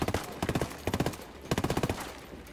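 Rapid bursts of automatic gunfire in the video game Ghost Recon Wildlands, three clusters of sharp, evenly spaced shots, loud and close, with brief gaps between bursts.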